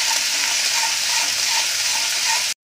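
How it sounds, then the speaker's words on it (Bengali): Garlic paste fries in a hot pan and gets stirred, a constant close, loud sizzle with soft rhythmic scrapes, cutting off abruptly near the end. "হাফ চামচি পরিমাণ রসুন বাটা দেবো, দিয়ে ভালো করে নাড়িয়ে দেবো"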